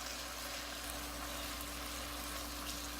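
Salmon fillets sizzle steadily in a pan of honey and butter as the glaze caramelizes, a soft, even frying crackle that stays constant and faint throughout without talk.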